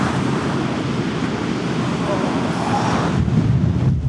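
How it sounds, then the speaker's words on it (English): Strong wind buffets the microphone in a continuous loud roar on a beach among dunes in Northumberland, with surf faintly audible underneath. "it's going to be very windy"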